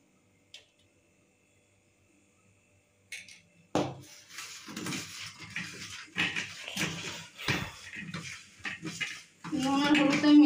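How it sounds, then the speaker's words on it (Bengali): Potatoes are tossed with salt and turmeric in a pan. After a near-silent start comes irregular metallic clatter and scraping of a spoon against the vessel, growing busier, with a voice briefly audible at the end. "নুন আর হলুদটা আমি মিক্স করে নিলাম"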